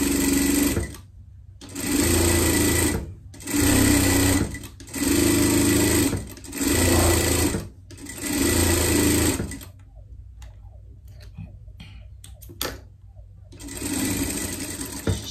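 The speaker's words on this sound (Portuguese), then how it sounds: "A gente vai passar uma costura reta aqui." A sewing machine runs a straight seam on a girl's bodice in five or six rapid, close bursts of whirring stitching separated by brief stops, followed by quieter handling sounds and a final short run.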